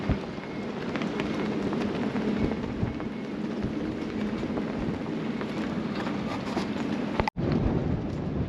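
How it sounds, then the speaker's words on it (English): Wind buffets a Catalina 42 sailboat at anchor in the Sea of Cortez, a steady loud rushing roar that cuts out briefly near the end before resuming. "Here comes the wind again."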